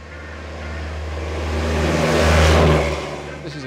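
The supercharged engine of a vintage Birkin Blower Bentley racing car revs up, swelling from a deep mechanical rumble to a loud peak before easing back down, close by.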